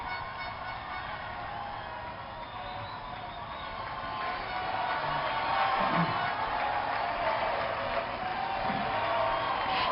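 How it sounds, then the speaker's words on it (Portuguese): Steady crowd noise from a large gathering of political supporters in Toul, with applause and scattered cheers swelling a little louder midway and holding. "e há um novo aplauso"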